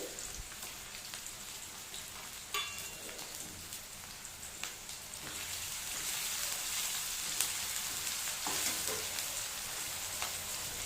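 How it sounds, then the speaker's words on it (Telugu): Onions and tomato frying in a pan, a continuous crackling sizzle with scattered pops and stirring clicks, growing slightly louder and denser in the second half. "ఆనియన్స్ కొంచెం ఫ్రై అయిన తర్వాత టమాటో యాడ్ చేసుకోవాలి"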